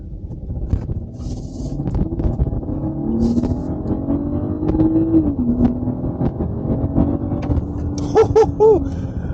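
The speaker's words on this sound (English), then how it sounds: "you can still hear that engine going. That's something that's special to sport mode" A 2023 Mercedes-Benz GLE 450 4Matic with a 3.0 turbo hybrid engine runs in sport mode, its engine droning and rising steadily as the car drives, with a brief higher whine near the end.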